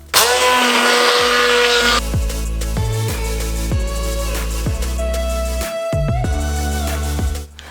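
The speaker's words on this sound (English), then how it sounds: "Then I will mash them with a hand mixer." Hand mixer mashing cooked sweet potatoes with salt in a bowl, a loud whirring motor close by that bogs down and revs back up several times as the beaters push through the thick mash.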